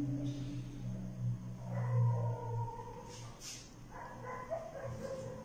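Dogs barking and yipping at a distance in a house, a few short barks mixed with whimpering over faint background noise, no clear talk.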